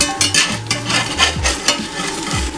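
A vegan omelet in a non-stick pan sizzling loudly and close, with a few scraping clatters from a spatula as it is worked loose and flipped, and brief tonal squeaks in between, no talking.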